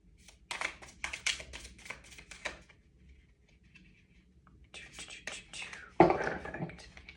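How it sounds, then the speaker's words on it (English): A deck of cards is shuffled up close in a quiet room, with two bursts of riffling and rapid papery flutters and a softer, hushed voice speaking between them. "I think one more shuffle."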